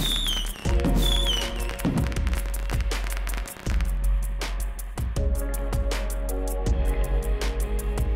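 Fireworks during the finale of the video game LUMO: loud, repeated sharp bangs and crackling bursts over a deep, droning musical backdrop, with a short pause midway.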